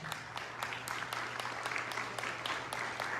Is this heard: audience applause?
yes